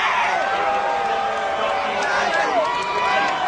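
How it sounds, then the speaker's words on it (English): Racetrack crowd at the Kentucky Derby cheering and applauding a jockey, a loud continuous roar with whoops and scattered clapping, while an announcer's voice carries over the top. "The fans applauding him."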